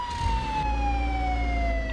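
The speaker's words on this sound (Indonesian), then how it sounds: "sirine nyala, sirine nyala" Police car siren in the video game Contraband Police, a loud continuous wailing tone that glides slowly downward, heard alone without talk.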